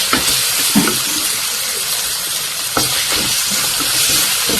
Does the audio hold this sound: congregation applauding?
no